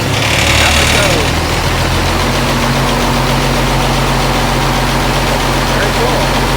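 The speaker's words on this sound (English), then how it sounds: "the guy starts the engine, and the cable starts moving." Engine driving a cable hoist on Koh Sichang, Thailand, starts up and settles into a loud, steady running drone with a low, constant hum and vibration, close by.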